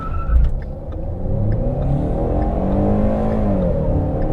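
A Ford EcoBoost Mustang accelerates hard from a standstill to 100 km/h in comfort mode, its engine note climbing and shifting in a loud, continuous roar heard close from inside the car.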